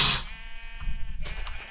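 A sheep in a wool-crafting video game bleats once, a short close wavering call following a brief burst of noise, alone without talk.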